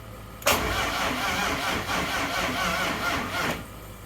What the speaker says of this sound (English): I'm gonna actually try to start it now with the new cam sensor in